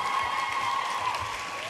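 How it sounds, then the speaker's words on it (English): Applause from an audience for the photographer at the end of a variety show, a steady, moderately distant wash of clapping that carries on without a break and with no voices over it. "Let's give Mark a round of applause."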